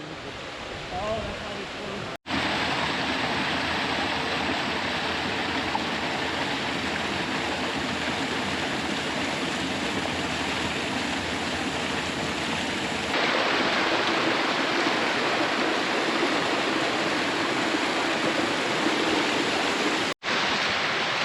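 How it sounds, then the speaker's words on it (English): A tributary waterfall along a forest trail pours in a loud, steady broadband rush that fills the whole stretch close by, with brief cuts in the sound. "Just come up on the tributary falls here."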